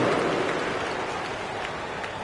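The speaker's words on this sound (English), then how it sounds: "One more round of applause for your 3-1-2 crew." A crowd in a basketball video game gives a continuous wash of applause and cheering, dense and steady for the whole stretch without breaks or distinct individual voices.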